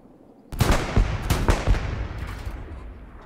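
A burst of gunfire in Hell Let Loose breaks a near silence with a loud, close crack, then several quick, punchy shots follow with a rumbling echo that slowly dies away.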